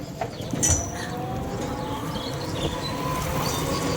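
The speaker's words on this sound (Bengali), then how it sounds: "এখন স্টেশনের দিকে ট্রেন চলে যাচ্ছে" A passenger train on the Lalgola line rolls from Debagram toward the station, with a steady low rumble and rattle of carriages and faint high tonal whines, heard close and continuous throughout.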